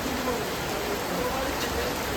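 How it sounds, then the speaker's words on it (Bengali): Steady broadband hiss of rain falling, continuous and even throughout with no breaks. "আর দেখুন বৃষ্টিও নেমেছে"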